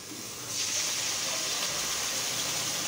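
Onion paste dropped into a hot pan for a tandoori quail masala, setting off a sudden loud hiss and sizzle that holds steady to the end, with no talking.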